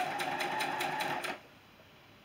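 A sewing machine stitching a quilt block seam for a beginner's sampler quilt, running in a steady rapid whir with regular pulses for over a second, then stopping, leaving quiet room tone.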